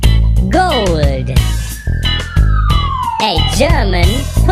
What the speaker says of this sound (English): a German police car.